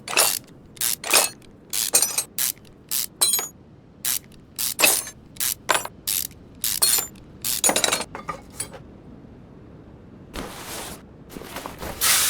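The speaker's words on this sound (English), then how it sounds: "I'm going to take the transmission off" Transmission coming off a car in Car Mechanic Simulator 2021: rapid bursts of sharp, close metallic clicks and glassy clinks, like bolts ratcheting loose, with brief pauses between them and no talking.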